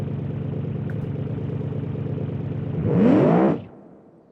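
A sports car engine in the BeamNG driving game idles with a steady throbbing drone, then revs sharply upward in a loud rising whine before cutting out abruptly as the engine breaks, leaving quiet.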